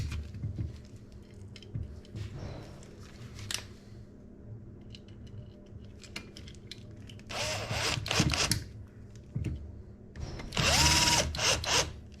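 Screws being tightened back into a Bosch regulator with a power driver, short bursts of whirring and clicking separated by quieter handling noises, close and fairly faint.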